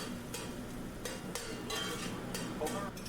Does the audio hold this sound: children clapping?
no